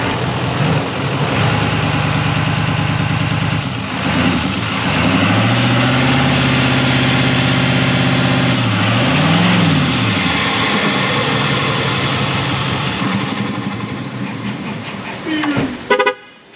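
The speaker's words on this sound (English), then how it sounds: "I'll give this some throttle so you can hear what she sounds like." A 2020 Chevy Silverado with the L5P Duramax 6.6 diesel engine and an upgraded intake, revving loudly in several rising and falling throttle pulls over a steady idle, with a brief electronic beep at the end.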